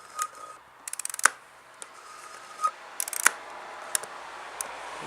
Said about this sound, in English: wind on the film